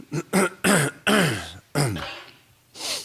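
A man clears his throat and coughs repeatedly, a close series of rough, hacking bursts with short pauses between them, no words spoken.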